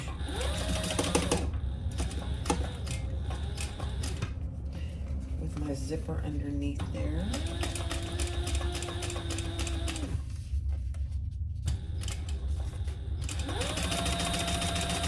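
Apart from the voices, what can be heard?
sewing machine top stitching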